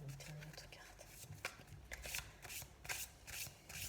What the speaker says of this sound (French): J'ai tiré une autre carte.